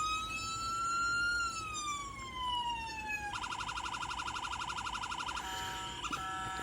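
A custom 1:18 Holden Commodore Clubsport police diecast model sounds its electronic siren: a slow wailing tone sweeps down, then switches abruptly to a rapid warbling yelp and then another tone. The sound is thin and steady, alone over faint background hum.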